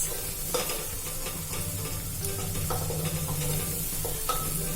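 Masoor dal ingredients frying in a pan, with a continuous close sizzle and the occasional soft scrape or tap of stirring, steady and alone.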